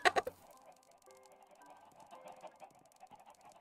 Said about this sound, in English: this is plenty of chickens